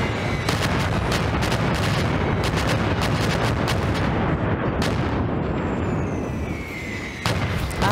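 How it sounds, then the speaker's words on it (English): Artillery pre-bombardment in the video game OstFront: a loud, continuous barrage of shell blasts and sharp cracks, one impact after another with no pause for the full length. "here comes the pre-bombardment. Hopefully it doesn't hit too much of my lines."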